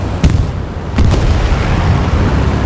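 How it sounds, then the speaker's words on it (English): Explosions in the Hell Let Loose World War II shooter game: a couple of sharp booms followed by a heavy, sustained rumble of battlefield noise, loud and close. "Explosion in that south side."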